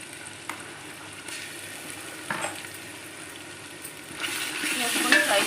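Ginger garlic paste sizzling in a hot pan for Hyderabadi mutton marag, a close steady frying hiss with occasional stirring scrapes that grows louder toward the end.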